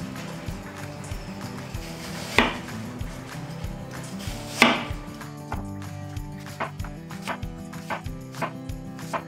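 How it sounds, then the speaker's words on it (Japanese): A knife cuts apples into thin slices about 6 to 8 millimetres thick on a board, making a steady series of soft, close chopping taps with a couple of louder knocks. "こうやって薄切りにしていきます。"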